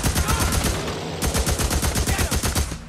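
Rapid automatic gunfire rattles loud and continuous at a bear in the game Days Gone, with dense repeated shots and a short break partway through.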